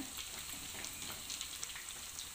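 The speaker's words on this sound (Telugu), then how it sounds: "ఇవి చేప ముక్కలు వేగిపోయినాయి తీసేసుకుందాం" Fish pieces frying in hot oil give off a steady, dense sizzle with scattered crackles and pops, continuous and close throughout with no talking.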